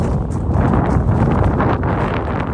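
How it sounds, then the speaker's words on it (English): Strong wind blows outdoors, roaring steadily and loudly close to the microphone with buffeting rumble and no let-up for the whole moment. "You can really hear that wind, hey?"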